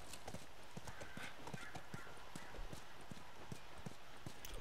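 Horse hooves clip-clop steadily in the video game The Last of Us, a quick, even run of soft hoofbeats over a low ambient background with no speech.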